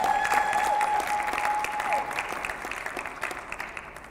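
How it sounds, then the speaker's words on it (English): Sustained clapping from an audience at a breast cancer awareness press conference, loud and dense at first, then thinning and tapering off over a few seconds. "Give her another round of applause."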